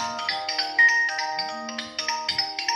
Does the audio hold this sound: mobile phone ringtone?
yes